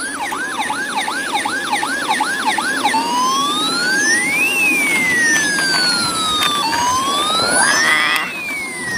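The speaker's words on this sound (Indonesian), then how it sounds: "mobil ambulan" A toy ambulance siren sounds loud and close, first in rapid repeating yelps, then in slow rising and falling wails that continue to the end.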